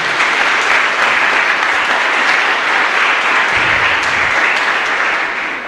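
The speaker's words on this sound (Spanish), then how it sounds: "le agradezco infinitamente al Padre Víctor, un fuerte aplauso para él" Sustained applause fills a chapel at the close of a Catholic Mass, a dense, even wash of many hands clapping from start to finish with no voices rising above it.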